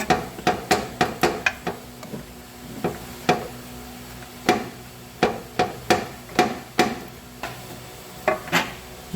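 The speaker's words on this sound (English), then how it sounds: "Just using a punch to line it up and getting the bolt in." Repeated sharp metal hammer blows drive a punch to line up a lower control arm bolt on a 2015 Jeep Patriot 2.4, struck in quick irregular bursts of two to five close, loud hits with short pauses between.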